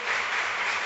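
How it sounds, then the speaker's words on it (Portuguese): A church congregation claps for the Lord, a dense, even burst of applause lasting just under a second, with no voices over it. "Uma salva de palmas para o Senhor."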